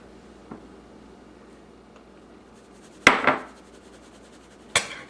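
Powdered sugar is sifted into a bowl, giving a few scattered metallic clanks and a rattling burst of sifter against the bowl, with quiet pauses between.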